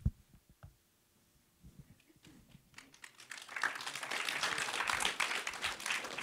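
A masterclass audience starts with a few scattered claps, then swells into sustained, dense applause that fills the room and holds steady to the end.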